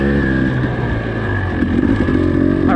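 A motorcycle revs on a winter single-track trail in Idaho, its engine droning loud and close with a steady, rich harmonic tone that holds for the whole stretch.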